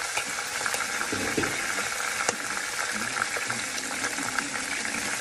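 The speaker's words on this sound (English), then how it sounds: "we're gonna add the chicken back to the pot." Chicken sizzles and fries as it goes back into a hot pot with the seasonings, a steady dense crackle with a few sharper clinks and stirring scrapes throughout.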